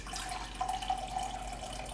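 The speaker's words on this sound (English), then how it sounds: "add a half a cup of water into the mixture," Half a cup of water poured into a blender holding crepe batter of flour and eggs, a steady close trickle and splash lasting about two seconds with no talking.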